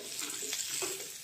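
Vegetables in a pan fry with a soft, steady sizzle, fairly faint, with a couple of light stirring scrapes over the brief moment.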